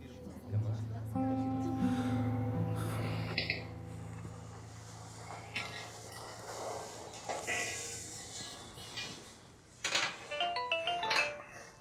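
A phone ringtone plays as a melodic series of sustained electronic tones for a few seconds, moderately loud indoors, followed by quieter room sounds and scattered noises.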